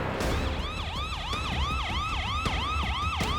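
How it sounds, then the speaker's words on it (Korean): An ambulance siren wails in a steady up-and-down pattern, loud and close, with a low road rumble underneath, as the ambulance arrives at a hospital emergency centre. "사이렌 소리와 함께 구급차가 급히 병원에 도착했습니다."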